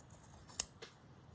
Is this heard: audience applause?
no